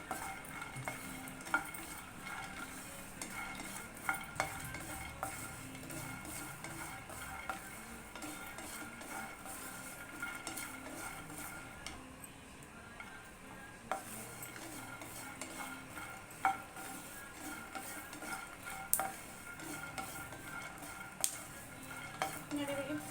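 Peanuts fry in a pan for tomato onion chutney with a steady sizzle, while a utensil stirs and scrapes, giving occasional sharp clinks against the pan.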